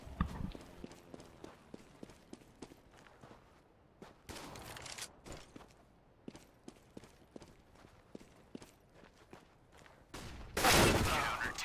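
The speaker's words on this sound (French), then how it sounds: "Inax qui tombe sous les balles de Tayshin." Gunfire in a Counter-Strike match at a 2015 world championship qualifier, with bursts of rapid shots and scattered single cracks throughout, then a loud dense volley near the end, mostly alone.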